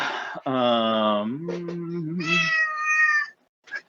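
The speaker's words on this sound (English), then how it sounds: "The cat is again annoyed." An annoyed house cat meows loudly and close, with two drawn-out, insistent calls running back to back, the second higher and strained.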